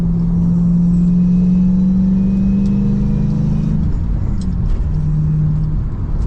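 A supercharged manual Lexus GS400 engine hums and rumbles steadily from inside the cabin, pitch rising gradually under partial-throttle acceleration, with a faint supercharger whine above it.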